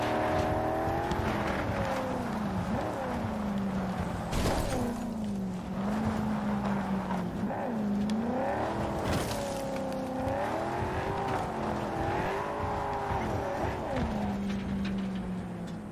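A car in Cyberpunk 2077 revs and drives hard, its engine note climbing and falling repeatedly with sharp tire squeals and occasional impacts, loud and close throughout.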